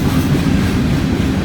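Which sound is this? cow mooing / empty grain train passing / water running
empty grain train passing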